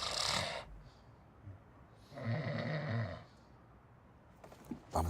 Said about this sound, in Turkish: Bir soru soruyorsun, cevabını almadan horlamaya başlıyorsun.